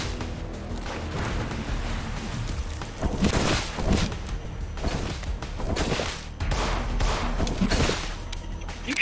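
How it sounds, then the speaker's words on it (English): Gunfire in the game In Sound Mind comes as repeated loud bursts of shots, several separate volleys spaced a few seconds apart. "Are you shooting at me?"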